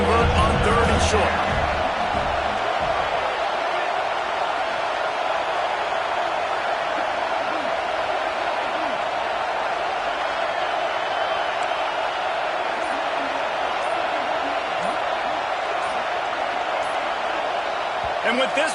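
A college football video game stadium crowd roars steadily and loudly throughout, a dense wall of noise with a commentator's voice over it.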